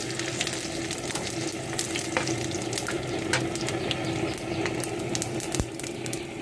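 Sliced onions and green chillies fry in hot oil with whole biryani spices for fish biryani. A close, continuous sizzle and crackle holds steady throughout, with occasional sharp pops and no talking.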